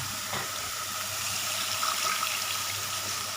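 Water pours steadily into a cooking pot in a continuous splashing stream, close and moderately loud, with no talking.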